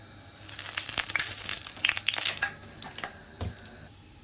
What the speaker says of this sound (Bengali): গরম তেলে মশলাগুলো ফুটে উঠছে।